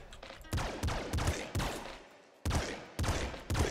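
Grenade launcher fire in the Nuclear Throne video game comes as a run of sharp, punchy booming shots, about six or seven in under four seconds at a fairly even rhythm, each decaying briefly before the next.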